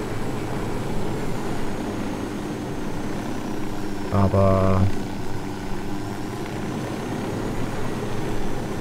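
A helicopter in the video game Ghost Recon Wildlands drones with a steady rotor hum throughout, heard at a distance beneath a brief spoken word.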